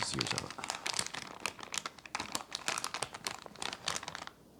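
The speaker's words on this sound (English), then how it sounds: "the bag is very crinkly and loud" Crinkly plastic deli meat bag being handled, a close, dense run of sharp rustling crackles in quick irregular bursts, quiet overall and with no voice heard.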